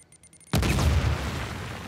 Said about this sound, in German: Oh, die Explosionen sind so nice.